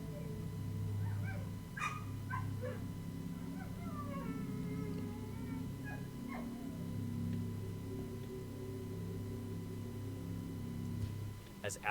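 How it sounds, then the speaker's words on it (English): A dog barks persistently and agitatedly outdoors at night, with repeated yips and whimpering barks at moderate distance over a steady low hum, while a voice talks over it. "disturbed by her dog's persistent and agitated barking"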